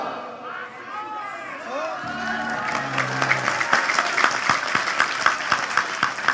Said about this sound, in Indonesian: Apik tepuk tangan.